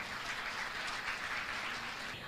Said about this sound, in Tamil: பலத்த ஒரு கைத்தட்டு தட்டுங்க பார்ப்போம்